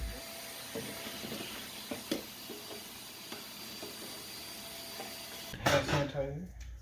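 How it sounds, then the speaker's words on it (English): A vacuum cleaner runs steadily with a constant hiss and whine while cleaning a Saab 9-3 interior, with occasional bumps and knocks, then a louder rustle near the end. "we'll get the vacuum out. We'll clean some of that up"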